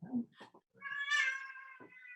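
A pet cat meows close up in a quiet room, one drawn-out rising and falling meow preceded by a few short chirpy sounds.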